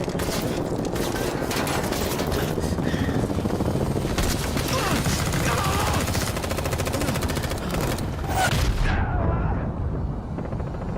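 Sustained automatic gunfire and bursts of shooting at an exfil helicopter in a multiplayer shooter video game, loud and continuous throughout, with dense overlapping shots before cutting off near the end.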